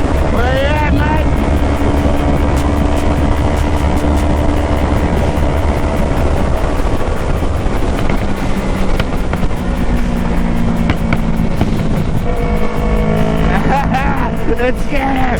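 A 2020 Kawasaki Z650 motorcycle with a Hindle full exhaust, flashed and tuned, revs and roars loudly and continuously while riding, with heavy wind buffeting across the microphone.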